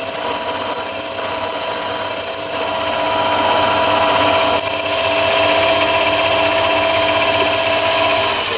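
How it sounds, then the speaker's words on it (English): A shortened finishing drill in a bench or pillar drill boring indexing holes in an indexing back plate, a loud steady whine running continuously with a slight dip partway through. "I keep a shortened finishing drill to do the holes the same diameter as the pin on the original indexing back plate."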